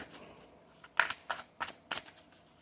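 Tarot cards are shuffled close up in four or five quick, crisp riffling bursts, evenly spaced, with quiet pauses between them and no talking.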